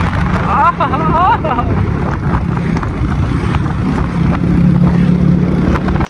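A motorbike engine running outdoors on a road in Nepal, with a steady continuous rumble mixed with wind noise and people talking over it throughout.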